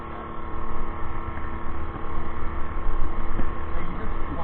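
A 72V 3000W Cyclone ebike with a hybrid gas generator engine on a stone quarry ride, giving a steady broadband roar of engine drone mixed with rushing wind noise, fairly loud and constant throughout.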